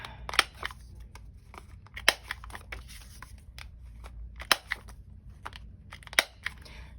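Scissors trimming paper for a junk journal, a series of sharp, close snips at irregular intervals with quiet rustling between them.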